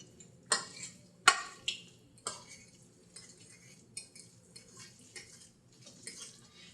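A spoon clinks and scrapes against a dish while leftover turkey is stirred together with gravy, giving a few sharp knocks followed by softer, irregular taps, close and quiet with no talk.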